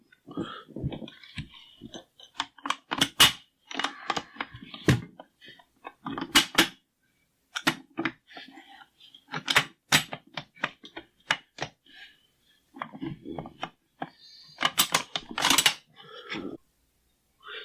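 The bolt of a Czech VZ58 rifle is handled by hand, locking and unlocking with a rapid, irregular series of crisp metallic clicks and clacks, close up and without speech.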